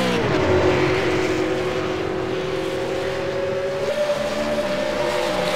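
V8 Supercars roar around Mount Panorama at Bathurst, a loud, close, continuous engine howl holding a steady pitch up Mountain Straight, stepping up with a gear change near the end, with no talk.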